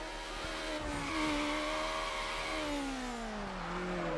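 Honda S2000 engine revving high in Need for Speed: Underground, a steady loud drone with pitch sliding down as it shifts, close and continuous with no talk.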